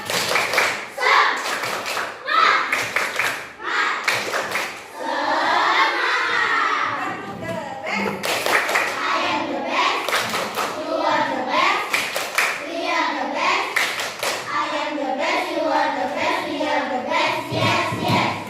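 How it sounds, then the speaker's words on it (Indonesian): Children perform a rhythmic clapping routine in a classroom, with bursts of patterned hand claps alternating with chanted voices, a teacher's speech mixed in between the claps. "Sebelumnya kita tepuk dulu ya, biar semangat ya"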